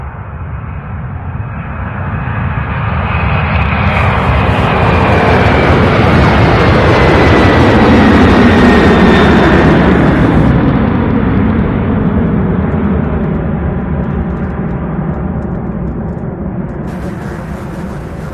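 An MD-11 cargo jet takes off at UPS Worldport in Louisville, its engine roar swelling loud and sustained, then slowly fading as it climbs away.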